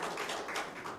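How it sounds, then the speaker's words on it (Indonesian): A church congregation clapping together: steady, close, dense applause from many hands, heard alone for about a second. "Boleh tepuk tangan dulu buat Tuhan kita."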